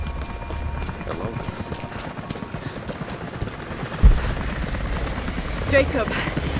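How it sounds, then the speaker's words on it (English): A helicopter's rapid rotor thumping pulses throughout in the video game Rise of the Tomb Raider, with a sharp bang partway through and scattered clatter in the background. "Helicopters are headed your way."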